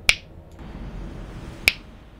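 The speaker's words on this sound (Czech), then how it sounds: "už ani luskat mi nejde" Two sharp finger snaps about one and a half seconds apart, close and distinct, over a faint low background hum from a game session.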